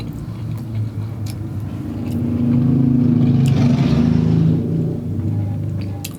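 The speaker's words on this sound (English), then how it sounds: "What are you driving? A monster truck?" A vehicle engine outside rumbles and builds into a loud, sustained rev, swelling in the middle before easing back to a steady low drone, with no one talking.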